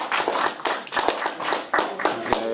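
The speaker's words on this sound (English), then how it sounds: "Applause, please." A short burst of clapping from a small class of university students, with uneven, scattered hand claps that come in loose waves rather than a steady roar.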